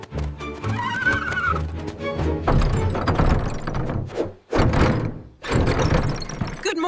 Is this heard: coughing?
no